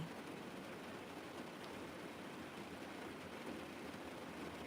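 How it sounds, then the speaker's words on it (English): Steady, dense hiss of rain falling continuously at an even level, with no voices and no breaks. "Just listening to the rain."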